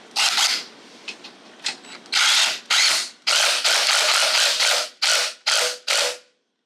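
Impact wrench driving a clutch bolt with flat and lock washers on a JCPenney Bird minibike, firing several loud, close bursts in a row, the later ones in quick succession, with no talking.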